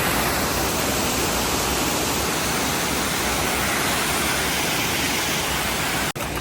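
The Chagrin River flowing steadily, a loud, dense rush of water that stays constant throughout with no voices.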